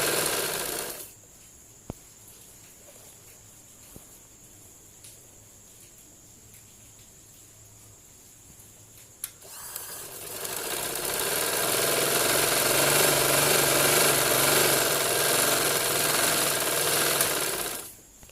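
After a long near-silent stretch with a couple of faint clicks, a sewing machine starts up and runs loud and continuous for about eight seconds, stitching a trouser seam before stopping abruptly.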